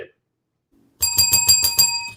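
A small bell is rung in a quick burst of bright, ringing strikes lasting about a second, loud and close, following a moment of silence.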